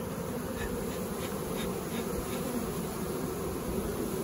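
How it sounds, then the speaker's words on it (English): A dense swarm of bees buzzes continuously and loudly up close, a steady hum with no talking. "These bees are steadily lining up and going to this box."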